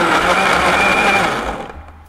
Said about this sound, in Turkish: Sağ tarafa çevirdiğimizde gördüğünüz gibi blender siz kontrol etmeseniz de çalışmaya devam ediyor.